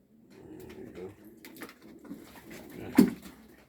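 Pigeons coo softly in a loft during a morning feeding routine, a few low murmuring calls scattered over quiet background shuffling, with one slightly louder coo near the end.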